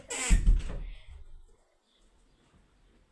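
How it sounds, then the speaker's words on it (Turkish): A door is pushed shut indoors during suitcase packing, giving one close, solid thud with a short rattle that fades within about a second, followed by near silence. "Kapıyı kapatmak benim bir klasiğimdir"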